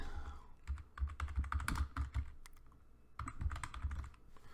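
Close, quiet typing on a computer keyboard, with a quick burst of clicking keys, a short pause, then another burst, and no talking.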